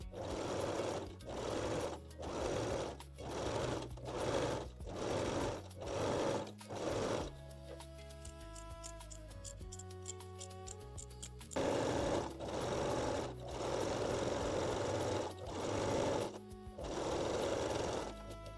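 A domestic sewing machine stitches the underarm seam of a bralette in steady, buzzing bursts, pausing briefly in the middle with some lighter mechanical clicking before running again, close and loud.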